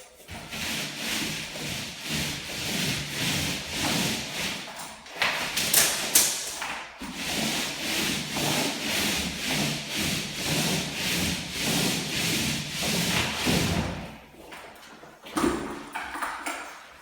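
A brush or roller lays an extra coat of basecoat onto new plaster on a wall. Close, repeated rhythmic rubbing strokes continue for most of the stretch, with a few brief pauses and a light clink near the six-second mark.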